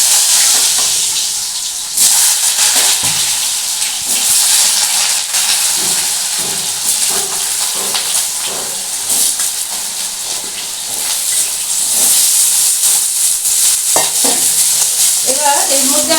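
Cut potatoes fry in hot oil with cumin seeds in a wok, giving a loud, continuous close-up sizzle and hiss, with occasional stirring scrapes and no speech.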